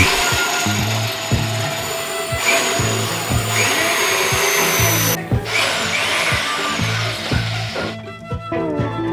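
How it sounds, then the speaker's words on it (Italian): A power drill fitted with a 6 mm bit bores holes for wall plugs while a pocket sliding door is fitted, giving loud, close, repeated whirring and grinding bursts with short pauses between them. "Faccio dei fori utilizzando una punta dal diametro di 6 mm perché appunto devo mettere dei tasselli da 6."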